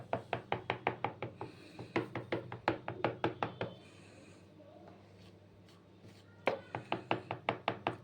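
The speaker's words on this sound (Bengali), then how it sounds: "আর আমি কাজুগুলো একটু ক্রাশ করে নিই" Cashews crushed with a hand crusher give a quick run of sharp, evenly spaced cracking knocks, a pause with only faint room noise, then another rapid burst, close and clear with no talking.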